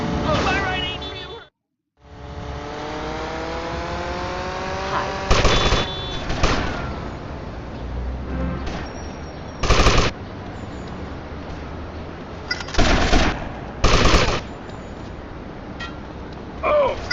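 Video game gunfire in a driving sequence, bursts of automatic shots and single loud blasts scattered over a continuous engine drone, with in-game voices talking throughout.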